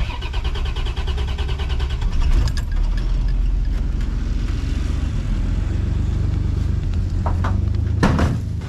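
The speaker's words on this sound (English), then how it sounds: "Let me give it a little quick crank." A rotting 1967 Cadillac convertible's engine cranks briefly, then catches and settles into a rough, loud, rumbling run close by. Sharp clunks and knocks break in near the end.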